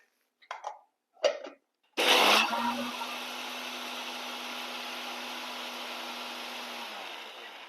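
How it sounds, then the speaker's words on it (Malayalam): A mixer grinder powders split green gram (cherupayar parippu) with salt for a Kerala chammanthi; a few short clatters give way to a loud, steady motor whine that runs on for several seconds. "ആദ്യം ഈ ചെറുപയർ പരിപ്പ് നമ്മൾ മിക്സിക്കകത്തോട്ടിട്ട് നല്ലതുപോലെ പൊടിക്കണം"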